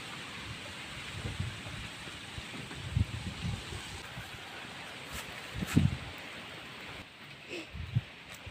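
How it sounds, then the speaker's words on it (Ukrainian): Steady rain hissing throughout, with occasional low thumps and rumbles breaking through the constant wash. "Дощ іде, сьогодні така дощова погода весь день"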